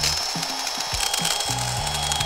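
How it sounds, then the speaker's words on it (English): A power drill bores holes into a watermelon in short bursts, its motor whirring up and down in pitch with brief pauses between runs, close and loud with no talking. "Drill some holes."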